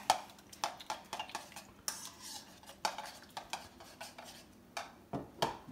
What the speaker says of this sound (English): Now we just get a little spoon mixer up. Mix this sauce up, nice and good like.